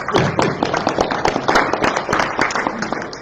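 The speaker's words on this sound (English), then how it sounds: "Give him a hand clap, y'all." An audience at a community conversation on leadership and wellness claps hands loudly and continuously, a dense, close burst of overlapping claps with some room noise.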